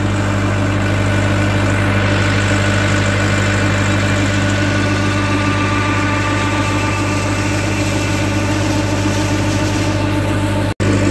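A heavy diesel YTO 604 tractor engine runs at a constant idle driving a tubewell pump, a loud droning hum with deep vibration, unbroken for the whole stretch and no voices.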